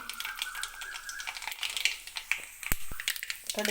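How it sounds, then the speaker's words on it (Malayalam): Mustard seeds splutter in hot oil for homemade gooseberry pickle, with scattered sharp pops and crackles and a few louder snaps close by, plus light clinks of a pan. "നമ്മുടെ എണ്ണ ഇവിടെ ചൂടായി വന്നിട്ടുണ്ട് ഇനി അതിലേക്ക് നമുക്ക് കടുകിട്ട് കൊടുക്കാം"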